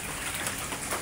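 Steady rain pouring down, a dense hiss of drops hitting surfaces, continuous and fairly loud with no voices.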